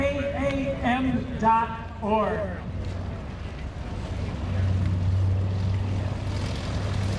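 Vintage propeller warbird flying past at the 2016 Greenwood Lake Airshow, a broad engine rumble rising behind someone talking, then continuing alone as a steady, fairly distant drone.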